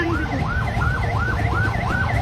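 An ambulance siren wails in a regular rising and falling cycle, loud and close, repeating about four times over steady traffic rumble.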